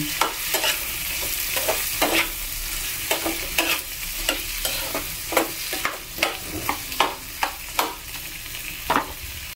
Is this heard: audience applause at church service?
no